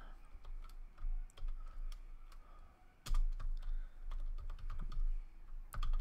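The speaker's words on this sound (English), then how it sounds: "let's go ahead and type that up here" Computer keyboard keys being typed in quick irregular bursts of close, crisp clicks, with a low hum underneath and no voices.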